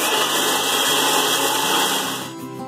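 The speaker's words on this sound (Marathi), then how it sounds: "आता मी ही बारीक पूड करून घेते मिक्सरमध्ये." A kitchen mixer grinder whirs at high speed, grinding roasted fenugreek seeds, coriander seeds and cumin into spice powder, with a steady loud motor whine and rattling dry grains; it winds down at the end.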